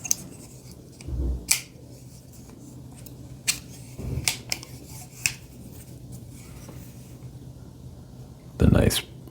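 Scissors on a Rocktol Gen-R 27-in-1 multitool pliers being opened and snipped, a few sharp clicks and snips scattered across the clip with soft handling rubs between them.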